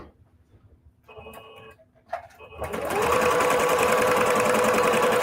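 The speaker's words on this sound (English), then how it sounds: "I'm just sewing with a straight stitch" A sewing machine starts up after a few quiet clicks and then runs steadily sewing a straight stitch on quilting fabric, its needle chattering in a fast, even mechanical rhythm close by.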